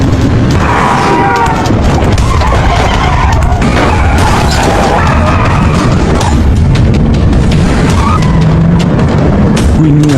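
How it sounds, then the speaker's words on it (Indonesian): A car is rammed from the side during an action film scene, loud, dense crashing and skidding noise with booming impacts and a constant roar, mixed with music and effects. "Mobilnya ditabrak dari samping."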